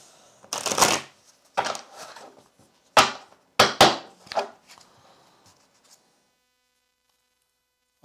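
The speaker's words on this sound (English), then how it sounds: "I have a feeling I need to shuffle." Tarot cards being shuffled in a few short, separate bursts of riffling and tapping, close and fairly crisp, with quiet gaps between them and silence toward the end.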